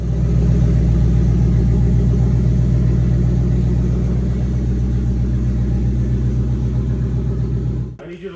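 Rebuilt twin-turbo Mustang engine running steadily at a loud, close, even rumble, then cutting off near the end.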